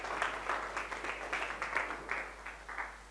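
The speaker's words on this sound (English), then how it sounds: "Give him a big round of applause, ladies and gentlemen" Faint applause from the audience at a sommelier contest, a soft rippling patter of clapping over a low steady hum, lasting a few seconds.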